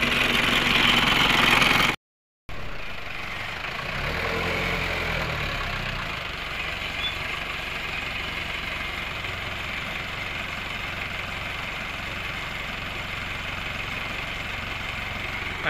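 An Isuzu C223 diesel engine idling in a 4x4 off-road Wrangler-style vehicle, a steady low rumble close by with a brief dropout early on, no talking over it.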